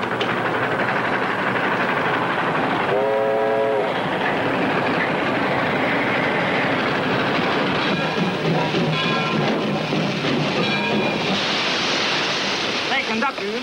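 A train rumbles along steadily with a broad, rushing roar, while voices talk over the noise.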